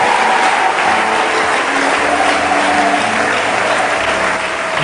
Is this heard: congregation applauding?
yes